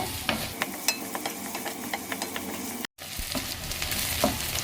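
Onions fry lightly in a pan with ghee for a brinjal and drumstick curry, a steady close sizzle broken by frequent clinks and scrapes of a stirring spoon, with one brief dropout and no talk.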